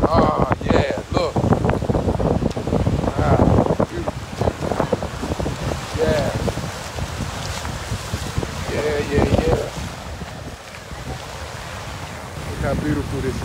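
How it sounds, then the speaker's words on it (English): Surf and blustery wind at Paje Beach in Zanzibar, gusts buffeting the microphone over a steady wash of waves, with voices talking intermittently. "This is Paje Beach, family."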